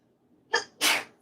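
A person sneezes once in a garage during a wiring job, a short indrawn breath followed by a loud, sharp, close burst, with no talking.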